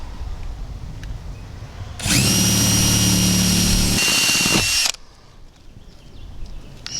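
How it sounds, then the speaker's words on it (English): A power drill cuts a hole through a van roof for a MaxxFan Deluxe roof fan, a loud steady whine that lasts about three seconds and then stops, with quieter room noise on either side. "Terrible drill bit."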